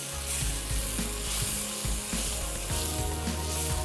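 Beef liver (kaleji) fries in a pan of khara masala with green chillies, a continuous loud sizzle broken by irregular scraping and stirring clatter, with no talk.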